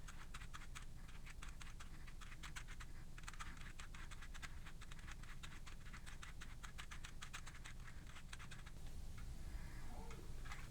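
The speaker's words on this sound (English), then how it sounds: "we're going to take our peeler, and I'm sure you guys all know how to peel a potato" A raw potato is scraped with a hand peeler in quick, repeated strokes, each a short rasp that comes at a brisk, uneven rhythm, close and quiet with no talking.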